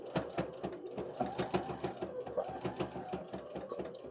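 A hand-crank sewing machine stitches a small wallet, its needle thumping in a quick, steady rhythm of close, distinct strokes over a soft mechanical whir, with no talking.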